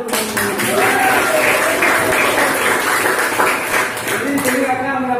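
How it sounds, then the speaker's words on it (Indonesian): Classroom of junior high students in Bali applauding together, a steady sustained clapping with voices and chatter mixed in throughout. "Tepuk tangan untuk"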